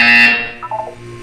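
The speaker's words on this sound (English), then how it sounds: "You will hear a buzzer." A short, loud electronic buzzer sounds once in a Portal 2 video game test chamber, a harsh, steady tone that cuts off quickly and is followed by softer, faint tonal blips.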